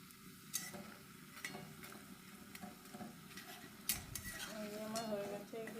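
Red flower fritters frying in a pan, a soft low sizzle broken by scattered clinks and scrapes of a utensil against the pan, with no talking.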